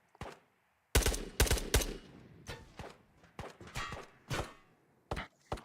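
Bursts of gunfire from a first-person shooter video game, loud close shots in a rapid cluster followed by spaced single and double reports against a quiet background.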